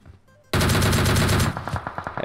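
A rapid burst of automatic gunfire in the PUBG Mobile battle royale game, loud and close, starting abruptly after a quiet moment and tapering into a few separate shots at the end.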